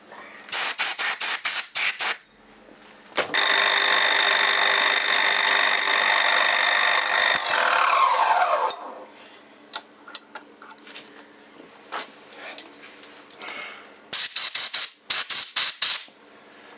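A milling machine skims the flip side of a metal part held on a rotary table, giving a steady loud cutting hiss for several seconds that winds down, with bursts of rapid clicking before and after.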